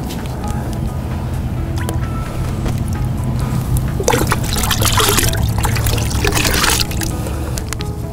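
Liquid trickles and splashes steadily into a jug of water, a close, continuous pouring sound that swells briefly louder midway before easing off.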